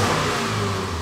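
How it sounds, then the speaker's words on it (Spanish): A Subaru car engine runs steadily at idle, a continuous low hum with a faint higher whine, close and even throughout with no voices. "el carro está prendido"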